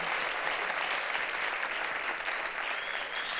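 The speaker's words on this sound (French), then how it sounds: "on les applaudit" Audience applauding at an awards gala: a dense, steady wash of clapping that holds at an even level throughout, with no speech over it.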